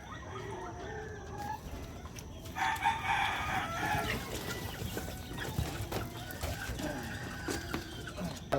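Chickens, chicks and roosters in a coop make overlapping clucks and peeps, and a rooster crows loudly partway through over a steady barnyard din.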